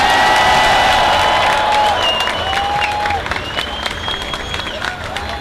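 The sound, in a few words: applause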